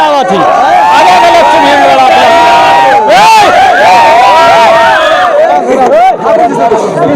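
A huge crowd at a Samajwadi Party rally in Milkipur for Akhilesh Yadav roars continuously, loud dense chanting and shouting voices with rising cheers, very close and overwhelming.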